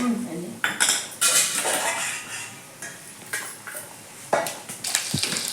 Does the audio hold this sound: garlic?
yes